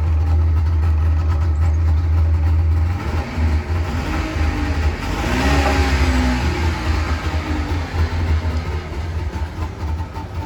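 A 1981 Wartburg 353W with a three-cylinder two-stroke engine idles with a low drone, then revs up and settles back, heard close by with steady engine noise throughout.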